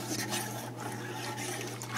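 Dark dye poured into a container of water while dyeing feather hair extensions, giving a steady close liquid pour and trickle with a constant low hum underneath.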